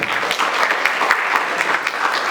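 Steady applause from a conference audience after a talk on genomic tools in plant breeding, dense and even throughout with no pauses.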